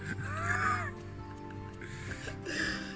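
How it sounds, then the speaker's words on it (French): Birds near a beach give a few faint, distant caws and squawky calls against a soft background hum, with a brief louder call at the start and near the end. "il y a des oiseaux"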